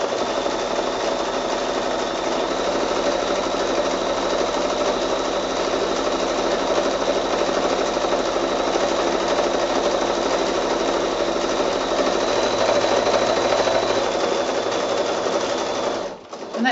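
A sewing machine stitches steadily and close by while free-motion quilting zigzag texture onto a giraffe wall hanging quilt, a continuous rapid mechanical chatter that stops abruptly near the end.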